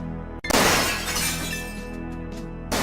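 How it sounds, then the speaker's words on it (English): Glass shatters loudly in the Gabriel Knight: Sins of the Fathers adventure game, a sharp crash followed by a long ringing, scattering tinkle of shards that fades before a second brief impact at the end. "Gabriel hears the faint sound of breaking glass."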